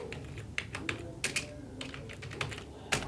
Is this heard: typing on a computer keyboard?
yes